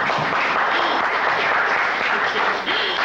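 Crowd applause at a broadcasters' gathering, steady and dense for the full stretch, a broad even wash of clapping with no voices breaking through.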